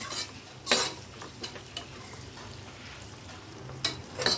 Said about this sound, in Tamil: ஸோ இது ஒரு 1 மினிட் அளவுக்கு நம்ம வதக்கிடலாம்